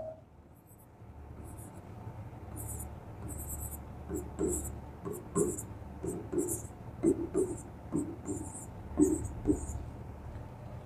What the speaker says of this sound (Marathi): 2चा टेबल मी साईडला लिहितो बघा